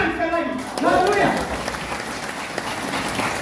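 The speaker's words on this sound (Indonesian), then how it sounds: "kita tepuk tangan sekali lagi" A church congregation at an anniversary service claps together in a close, continuous patter, with voices speaking and calling out over the applause at the start.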